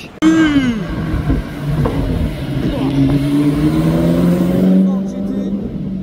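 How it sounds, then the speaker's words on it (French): A Ferrari 812 with a Novitec exhaust revs loudly up close, its engine note climbing and holding in a rising, sustained roar that fades off near the end, with people talking over it. "La 812 avec l'échappement Novitec, c'est validé"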